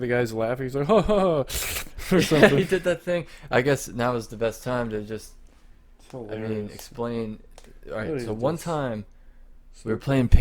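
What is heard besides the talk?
No everyday noises stand out.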